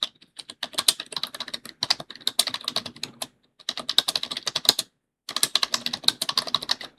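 Rapid keystrokes on a computer keyboard while Python code is typed, coming in dense bursts separated by brief pauses, close and clear with no talking.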